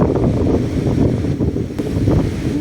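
Steady broadband rush of ocean waves on the white-sand shore of Pilot View Beach in Davao Oriental, mixed with constant wind buffeting the microphone, with no distinct breaking crashes.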